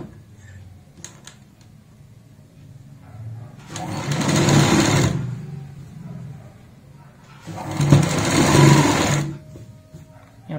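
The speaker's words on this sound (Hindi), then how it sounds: "एक पैर चौड़ाई वाली सिलाई लगाते हैं यहाँ पे" Electric sewing machine running a stitch along a folded strip of fabric for a girl's top, two steady whirring bursts of several seconds each with quiet pauses between.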